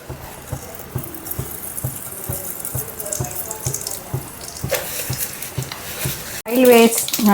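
Mustard seeds land in hot oil in a kadai for Andhra-style brinjal fry. Faint steady ticking gives way to a sudden, loud, close crackling sizzle near the end, with no talking.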